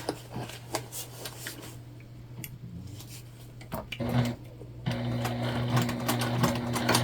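A sewing machine stitches a multi-panel tote bag seam, its motor humming in steady runs that stop briefly mid-way and then resume louder and denser, close by with no talk.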